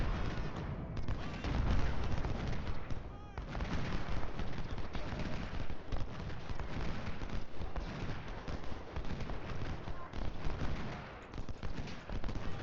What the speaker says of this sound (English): I'm gonna bring Stokes up and just let him shoot at Johnson.